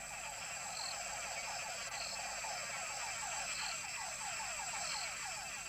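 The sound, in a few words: frog calls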